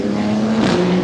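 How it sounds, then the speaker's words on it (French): Racing cars at an event, engines droning steadily loud and close with a sustained motor hum, a brief rise in pitch midway, and no voices. "Ils font des courses de voitures."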